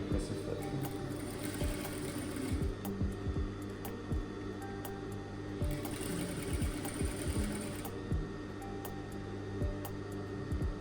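Sewing machine stitching around a tiny double folded shirt hem, running in steady bursts of rapid needle clatter with short pauses between, close and moderately quiet.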